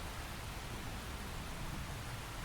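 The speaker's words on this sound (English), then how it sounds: "The rain's starting to let up" Steady rain in Xenoblade Chronicles X, a dense, even hiss with no breaks, moderately loud and unchanging.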